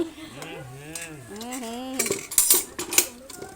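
Cutlery scrapes and clinks against plates as khichuri is eaten at a Saraswati puja gathering, in a run of close, bright metallic clatters. A voice speaks or hums briefly just before the clattering starts.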